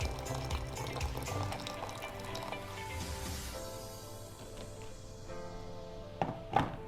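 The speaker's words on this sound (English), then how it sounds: "The water stream is fast and steady." Water pours from a Secura stainless steel double-wall electric kettle in a fast, steady stream, a soft splashing fill that tapers off, followed by a couple of light clinks at the end.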